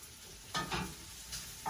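Ramps and Pioppini mushrooms cooking in butter give a quiet, steady sizzle, broken by a few soft scraping stirs.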